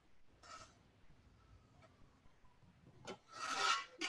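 A knife cuts fresh pasta into quarter-inch segments on a cutting board for tortellini. The strokes are faint and rasping: one near the start and two louder ones closing out the stretch, with quiet gaps between.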